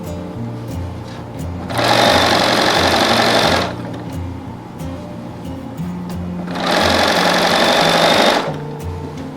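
A sewing machine stitches a long seam through quilted outer fabric and lining for a bag, running in two loud, buzzing bursts of a couple of seconds each, separated by a quieter pause.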